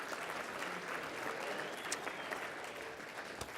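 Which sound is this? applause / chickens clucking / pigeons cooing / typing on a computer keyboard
applause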